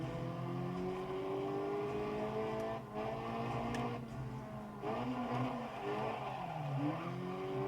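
A racing video game car, driven with a Steam Controller, whines through rising and falling engine revs as it shifts gears. Brief tire squeals come through at a moderate level, with no talking.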